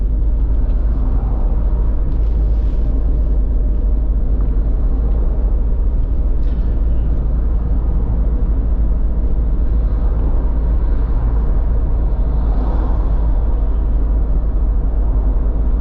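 A car cruises along the A2 on Jamaica's Highway 2000 between May Pen and Williamsfield, a loud, constant interior road rumble and engine drone running throughout without pause.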